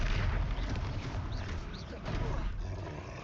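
Confringo blasting spell from Hogwarts Legacy, a loud roaring burst of fiery, booming noise that rumbles continuously for a few seconds with sharper crackles and whooshes layered over it.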